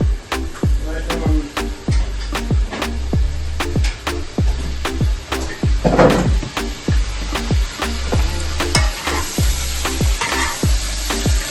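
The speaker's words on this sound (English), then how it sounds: "I just put a little butter in my saucepan" Butter sizzles steadily in a saucepan while a wings dish is being cooked, a continuous close crackle broken by regular sharp taps of a utensil against the pan.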